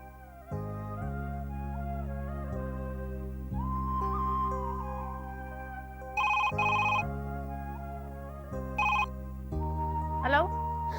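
A phone ringtone sounds twice as short bright chirping bursts over a steady melodic television drama score, followed by a rising whistle-like tone near the end.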